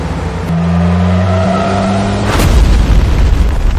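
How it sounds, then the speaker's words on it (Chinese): A deep, loud boom erupts after a steady engine drone, followed by a rumbling roar and scattered debris-like crackle. "刚刚山上有爆炸声"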